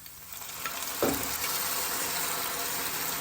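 Pressure-cooked beef for a Kerala-style beef fry drops into a hot pan with a soft thud, then sizzles and crackles steadily while being stirred, close and fairly quiet.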